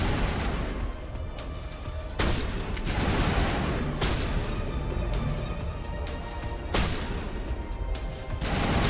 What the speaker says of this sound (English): Why are you shooting through the rock?